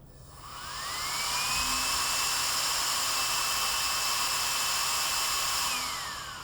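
A low-power fan motor spins up, holds a smooth steady whir with a thin rising then level whine, and winds down at the end, heard close and alone.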